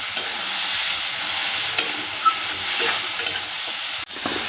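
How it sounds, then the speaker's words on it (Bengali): Spice paste stir-frying in a pan with a splash of water, a steady close hiss and sizzle with a few soft scrapes of a spatula, nobody speaking. "একটু মশলাটা দিয়ে এবার একটু কষে নেব।"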